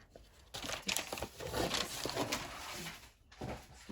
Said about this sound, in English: Sorry about all the crinkling noise.